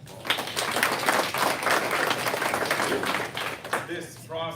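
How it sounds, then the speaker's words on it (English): An audience applauds at a school board meeting, with a steady wash of clapping that fades out before a voice begins. "let's give them a round of applause"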